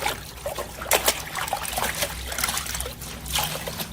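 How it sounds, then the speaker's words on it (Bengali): A towel being washed in water from a plastic bath tub, with trickling, dribbling water and light splashes in short bursts, fairly close and moderate in level. "তো এটা দিয়ে আমি গামছাটা ভালো করে ধুয়ে তারপরে মেলে।"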